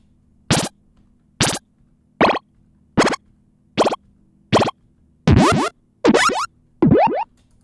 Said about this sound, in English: Health, it's like picking up hearts.